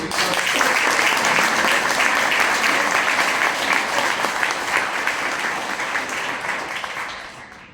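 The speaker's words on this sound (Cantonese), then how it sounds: "俾啲掌聲俾" Sustained audience applause at a Hong Kong nautical school's high table dinner, a thick, steady wash of many hands clapping that holds for several seconds before slowly tapering off.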